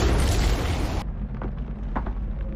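Land mine detonation: a loud, wide boom filling the first second, cutting off abruptly to quieter rumbling debris and scattered thuds afterward.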